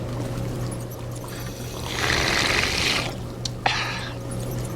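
Water pours and trickles in Ghostbusters: The Video Game, a steady splashing stream that swells midway and then stops, with a short clack near the end over a constant low hum.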